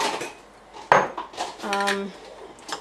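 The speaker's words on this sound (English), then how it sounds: "I'm going to grab these jars, which I did not think to take the lids off of before." Glass jars with their lids still on are picked up and handled, giving a few sharp clinks and one short ringing knock amid soft rustling handling noise.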